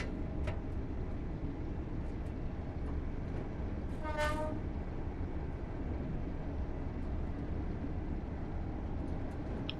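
Train driven in a PS4 train simulator on an ECML scenario, a steady low rumble of rail running with one short horn blast near the middle, no talk.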